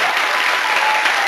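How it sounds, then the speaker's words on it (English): An audience at a talk breaks into brief, dense applause, steady clapping filling the short moment with no pauses. "maybe it is. Clap."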